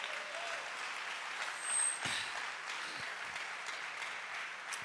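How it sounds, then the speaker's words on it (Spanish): Congregation applauding in a church during a sermon: a broad, steady wash of many hands clapping together, sustained for several seconds with a few louder thumps. "Y le dé un fuerte aplauso al Rey de la Gloria."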